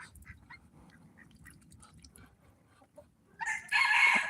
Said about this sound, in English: We got Americana chickens right here